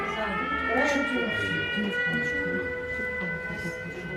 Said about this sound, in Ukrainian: Повітряна тривога. Найближче укриття.